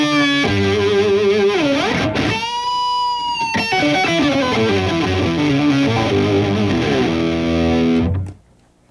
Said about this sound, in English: I'll pop on that octave pedal.